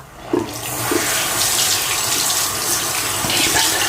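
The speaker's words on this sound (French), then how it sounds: "je vais bien la rincer encore une fois" Running tap water splashes steadily while a face is rinsed during an evening skincare routine, a close, continuous gush with a few brief splashes and no talking.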